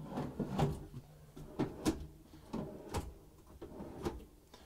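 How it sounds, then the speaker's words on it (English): Cabinet drawers in a 2023 Newmar Supreme Aire 4051 motorhome slide and soft-close in several quiet, evenly spaced thuds and rattles. Each has a brief damped sliding sound, and no voices are heard. "every drawer in this coach always is going to be a soft closing drawer"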